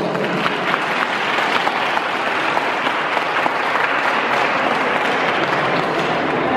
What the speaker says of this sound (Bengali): একটা বড় হাততালি দিই।